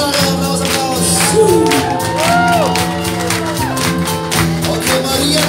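At an acoustic night of a guitar school, a crowd claps and cheers for a guitar performer, with whoops and shouts over sustained music and tonal sounds, loud and continuous throughout.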